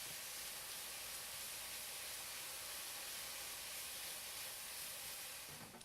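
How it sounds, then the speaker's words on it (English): Italian turkey sausage browning in a pan gives off a steady, even sizzling hiss that holds at a moderate level with no talk, fading slightly at the very end. "Going to begin to brown up our turkey here"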